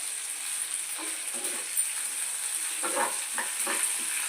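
Curry leaves and coriander seeds roast in a hot pan for a gongura coconut chutney, giving a steady close sizzle with soft scraping stirs in short bursts. No voices.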